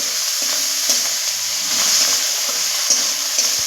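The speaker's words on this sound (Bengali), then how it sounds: "দিয়ে এটা একটু ভেজে নেব।" Cumin, pepper and fresh coriander leaves fry in a pan, a steady close sizzle with the occasional scrape of a stirring spoon, heard alone without any voices.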